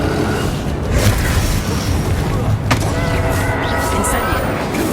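A Bombarda blasting spell in the Hogwarts Legacy video game, a loud, close boom with a rumbling tail inside a busy spell-combat soundscape, alongside a game voice.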